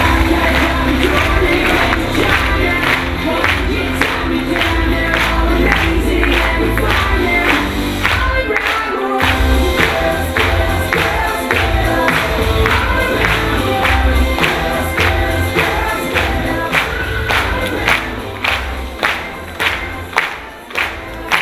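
Loud, dense applause and crowd noise from a conference audience welcoming a product developer on stage, sustained steady clapping for about twenty seconds with a brief dip midway, tapering at the end.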